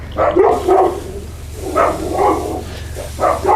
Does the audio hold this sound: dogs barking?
yes